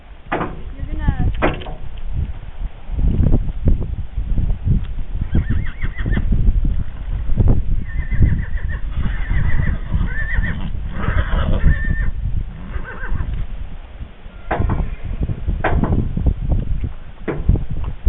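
A rein-trained horse walks with steady clip-clop hoof falls and lets out several neighs, while a person talks throughout.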